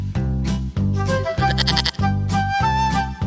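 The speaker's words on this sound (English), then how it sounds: "goat" A goat bleats loudly and repeatedly, several long wavering calls in a steady rhythm, close up with nothing else heard.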